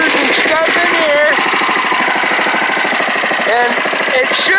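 A small engine with freshly adjusted governor springs and linkage idles at about 1550 rpm, a loud, steady, rapid chugging with no pauses.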